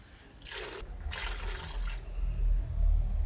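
Contaminated gasoline drains from the fuel tank of a Toyota Avalon that cranks but won't start, coming out as two splashing, trickling bursts followed by a lower, steadier pour.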